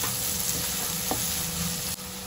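Chopped tomato and onion are stirred in a hot pan, a continuous sizzle and frying crackle with soft scraping stirs and one brief clatter near the end.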